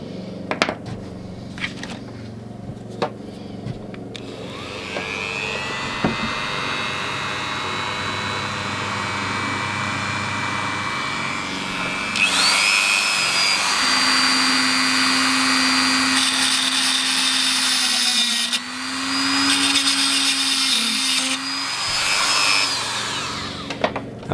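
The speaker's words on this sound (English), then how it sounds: "So I'm going to cut that now with the Dremel." A Dremel rotary tool cuts through a metal point motor wire, starting with a few clicks and then spinning up into a loud, sustained high whine. The pitch shifts as the bit bites, and the tool stops briefly twice before winding down.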